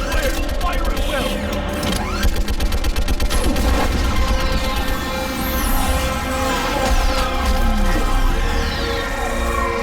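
Gunfire in Mass Effect 3 on Rannoch, a rapid crackle of machine-gun bursts and scattered shots under a heavy mechanical drone, loud and continuous, with voices speaking over the battle.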